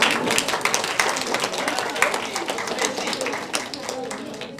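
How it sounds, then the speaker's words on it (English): Scattered audience clapping at a leadership training workshop, a modest round of individual claps with distinct sharp hits, mixed with faint voices in the room. "You have to give them a round of applause, right?"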